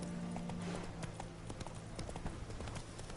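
A horse's hooves clip-clop at a gallop in Witcher 3, a quick rhythmic run of hoof beats, fairly close but faint, under soft game ambience.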